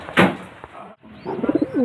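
Close pigeon coos, a soft throaty burst followed by a short run of rolling coos.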